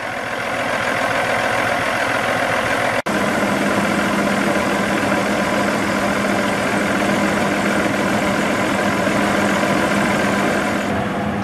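A 2009 Kenworth T800's 425-horsepower Cummins ISX diesel engine idles steadily, a deep continuous rumble with no voices, broken once by a brief sharp click early on.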